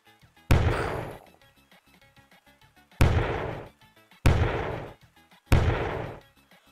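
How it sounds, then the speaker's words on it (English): Four heavy cannon-like blasts from a melon cannon in Garry's Mod, each a sharp boom with a decaying tail, spaced unevenly and loud against near silence. "Melon cannon."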